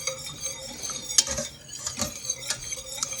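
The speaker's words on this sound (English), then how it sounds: "It's going to start breaking down just the more I whisk it." Garlic sauce whisked in a pan, with a continuous close scraping and swishing of the whisk against metal, rhythmic strokes and light sizzling underneath, no voices.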